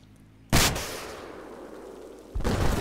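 Battlefield 4 gunfire cracks out in two sharp, loud shots, one near the start and another near the end, with a decaying rumble trailing between them.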